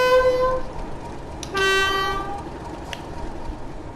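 A BR class 31 diesel locomotive sounds its horn in two tonal blasts, a short one at the start and a longer one after a brief pause, over a low engine rumble, with a faint clank near the end.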